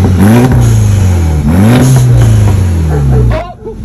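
A Volkswagen GTI or Toyota GR86 with a newly fitted downpipe revs hard, its engine note climbing and falling in two loud, close sweeps before cutting off near the end.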